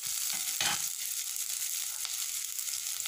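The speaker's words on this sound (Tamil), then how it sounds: "தேங்காய் போட்டு ஒரு 2 நிமிஷம் லைட்டாக வதக்கிட்டு" Grated coconut sautés lightly in a pan for coriander chutney, making a close, steady bright sizzle with a brief stir-scrape near the start, and no voices.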